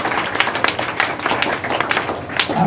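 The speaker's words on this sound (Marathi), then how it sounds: "आपण अगदी जोरदार टाळ्या वाजून त्यांना सुद्धा धन्यवाद देऊया" Audience applause at a school uniform and supplies distribution event, a steady stretch of dense clapping from a crowd, fairly close and loud throughout.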